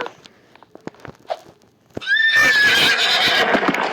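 A horse in a Roblox prison obby game gives a loud, rising whinny that carries on for a couple of seconds, after a stretch of scattered light clicks and taps.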